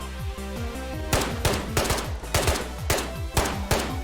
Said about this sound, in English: You'll notice a slight pitch difference in between all these 3 rifles that I just shot